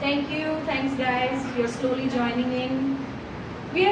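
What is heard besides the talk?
No everyday noise stands out behind the speech.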